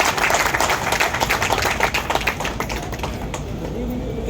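Audience applause at a Canara Bank public event in Bulandshahr welcoming the executive director, a dense, steady patter of many hands clapping that gradually fades toward the end.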